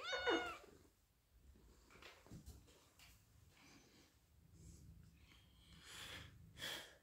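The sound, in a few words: cat meowing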